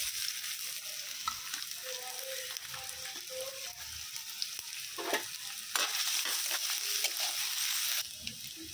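Chopped onion fries in a pan with a soft, continuous sizzle and light stirring scrapes, fairly quiet and close, while a voice speaks briefly under the frying early on.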